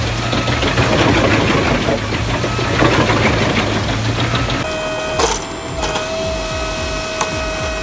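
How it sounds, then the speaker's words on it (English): A Dorntech hydraulic log splitter with a winch drones loudly and steadily as it lifts and splits a massive log, roughly a meter long and 80 cm thick, with the machine's tone shifting partway through. "With its hydraulic winch, it effortlessly lifts and splits a massive 1 meter long, 80 centimeters diameter log in seconds."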